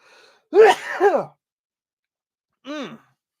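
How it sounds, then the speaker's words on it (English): A sharp, voiced sneeze burst with a drawn-in breath, followed after a pause by a shorter second sneeze-like sound, close and fairly loud. "I feel a sneeze coming on."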